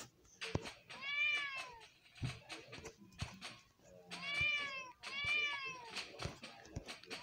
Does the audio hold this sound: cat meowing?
yes